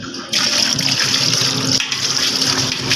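Dirty, watery fuel drains from a Mitsubishi Strada's gas tank in a steady, close gush that starts abruptly and runs continuously, loud and splashing, with no talk over it.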